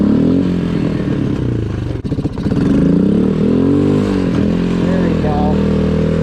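A Suzuki QuadRunner 230 ATV pulling in low range, its engine loud and close, rising and falling in pitch as it revs, with one brief dip in the middle and someone speaking over it.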